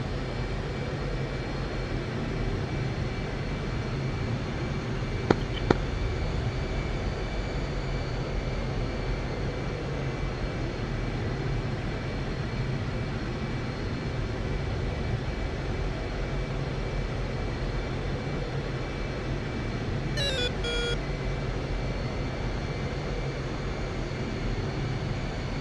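An F/A-18 jet taxis in the flight sim DCS, its engines a steady, even drone throughout, with a couple of sharp clicks and a short electronic beeping later on.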